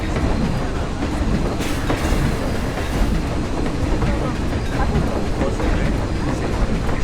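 Continuous rolling rumble of a steam train in motion in Planet Coaster, steady clickety-clack of wheels on track with broadband noise throughout, loud and close.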